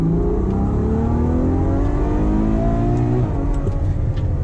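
A Ferrari FF's V12 engine revs up hard under acceleration toward its 8,000 RPM redline, a loud, close, rising roar that climbs steadily before easing off briefly near the end.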